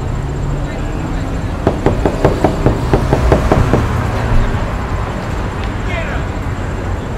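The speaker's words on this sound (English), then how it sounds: "Why are you banging on my door?" Someone bangs on a door in a rapid run of about ten sharp knocks, loud and close, over a steady background hum, with faint street-like noise afterward.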